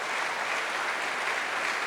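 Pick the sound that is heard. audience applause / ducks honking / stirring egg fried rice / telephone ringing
audience applause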